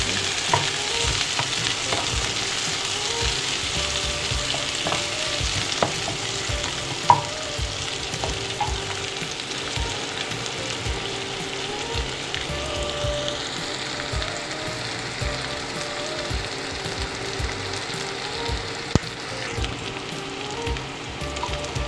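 Chopped onion fries in hot oil for a Thai basil minced chicken dish, a continuous close sizzle with occasional stirring clinks and scrapes, no voices.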